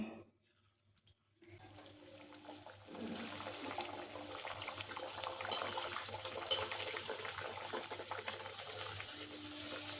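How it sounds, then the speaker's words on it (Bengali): Kachoris deep-frying in hot white oil, a steady broadband sizzle that starts after a brief near-silence and grows louder, continuing close and unbroken with no talk. "এখন এগুলো একটা একটা করে ভেজে নিচ্ছি"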